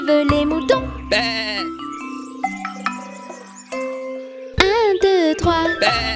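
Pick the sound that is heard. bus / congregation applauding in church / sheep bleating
sheep bleating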